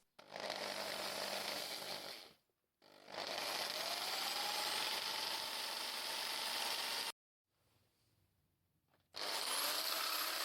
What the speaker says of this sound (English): The bed is first drilled with a pilot drill.